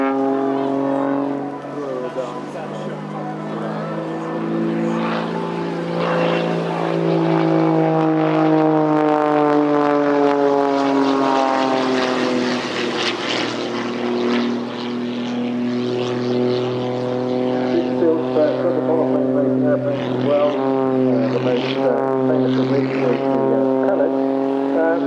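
Aerobatic propeller plane pinwheeling down through its own smoke at an airshow, a loud sustained engine drone sliding in pitch over many seconds, with an announcer talking over it.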